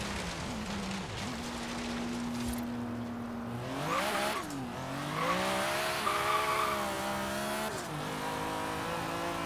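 A 700-horsepower front-wheel-drive car in a video game spins its tires with a squealing, skidding engine drone, the revs rising and falling in loud, continuous sweeps.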